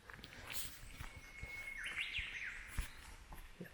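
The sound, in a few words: birds singing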